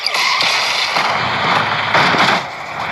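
Rapid bursts of blasting game sound effects fire continuously, loud and dense, with faint talking underneath.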